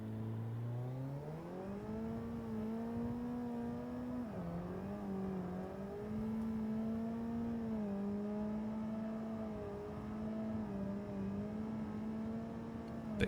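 A car drifting in the Assetto Corsa racing game, using left-foot braking: the engine note climbs, holds high and dips several times as the car slides, with a continuous loud drone and no voices.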